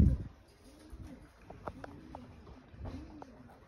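Soft, low racing pigeon coos repeat a few times at a relaxed pace over a quiet background, with faint rustles and clicks in between.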